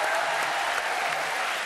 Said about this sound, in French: Applaudissements pour cette jeune fille qui nous a téléphoné.